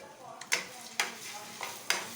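Chilli powder and turmeric being stirred into frying egg in a pan, a soft steady sizzle broken by four sharp scraping strokes of the spoon at roughly even intervals, fairly quiet.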